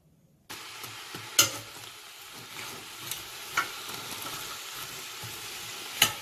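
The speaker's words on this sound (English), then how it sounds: "begin stir frying our vegetables, just so that we can get them nice and wilted" Vegetables sizzle steadily in a hot pan, with a few sharp clanks and scrapes of a utensil stirring them.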